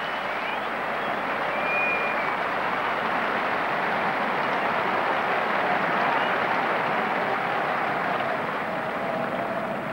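A large crowd at a 1991 England versus West Indies Test match at The Oval applauds a team total of 400, a steady, broad wash of clapping held at even volume for ten seconds.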